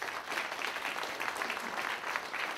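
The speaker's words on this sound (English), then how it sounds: "So give him a round of applause," A room of people at a project update meeting claps for a new leader, a soft, even wash of applause that sounds somewhat distant and holds steady throughout.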